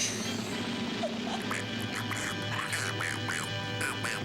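A voice imitating Donald Duck's quacking, a rapid series of raspy nasal quacks in quick succession, close and fairly loud over a faint hum.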